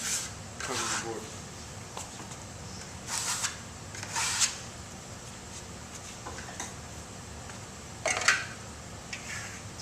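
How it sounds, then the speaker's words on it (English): A towel burnishes two-tone Venetian plaster on a board in quick rubbing strokes, lightly, as faint swishing bursts that come and go over a quiet background. "So he gets the burnishing towel and he burnishes it very little."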